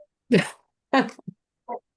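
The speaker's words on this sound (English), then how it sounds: "I just had to sneeze." A single sneeze in a committee meeting room, a sharp burst followed by short breathy sounds and a brief vocal noise, heard fairly close with no talk over it.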